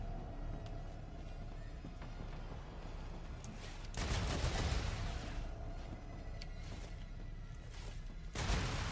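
Gunfire in the video game Star Rupture, a sustained noisy volley of shots swelling loudly in the middle and returning at the end over a busy, rumbling game background.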